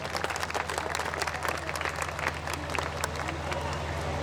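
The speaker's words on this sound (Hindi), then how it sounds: "जोरदार तालियां बजाइए एक बार" Audience applause at a Hindi poetry recital held in a school courtyard, a steady wash of clapping from a crowd with a low hum underneath, continuing evenly throughout.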